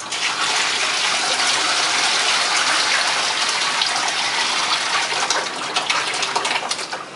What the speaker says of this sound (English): Tip the glaze into the sieve.